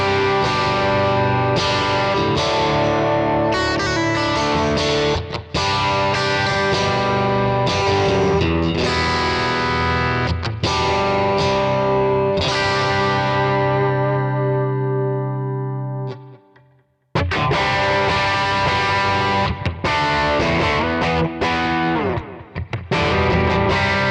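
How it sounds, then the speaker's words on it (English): An electric guitar with a JS single-coil pickup plays through a Fractal FM3 with a thick, distorted, effects-laden tone, with strummed chords and sustained notes ringing out, a brief near-silent gap, then loud playing again. "Play something for us on this with the FM3, a thick sound"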